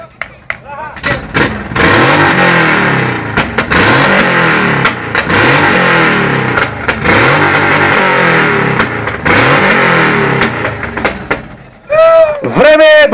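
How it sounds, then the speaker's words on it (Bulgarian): A motorcycle engine belonging to a member of the Vagabonds club revs hard in repeated loud bursts at an outdoor gathering, with the crowd's voices and an announcer mixed in; a brief high whistle or squeal follows near the end. "Чуйте сега неговия мотор."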